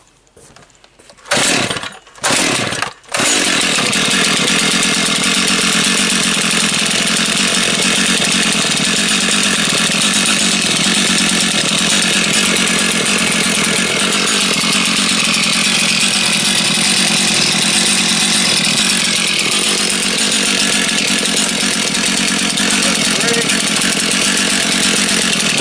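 Brand new Stihl MS261C and MS 391 chainsaws start with a few short sputtering pulls, then settle into a steady, loud, close idle that runs unbroken to the end.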